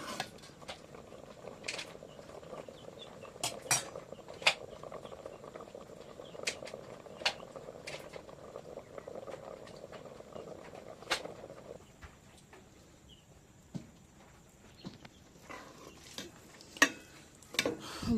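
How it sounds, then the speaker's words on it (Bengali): Rice simmering in a pot for payesh, the sweet Bengali rice pudding, gives a soft bubbling patter with scattered light clicks and taps, quiet and close, easing off toward the end. "বন্ধুরা, এখন চাউলটা ফুটে উঠছে।"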